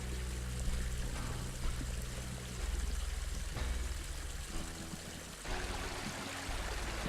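A small stream in freezing temperatures gives off a continuous gurgling, trickling wash, fairly quiet and close, with small shifts in texture as the water runs.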